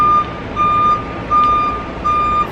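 Truck reversing alarm sounding in four steady, evenly spaced beeps, loud and near against constant outdoor background noise and traffic rumble.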